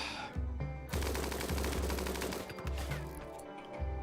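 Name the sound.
gunfire hitting a colonist in the video game RimWorld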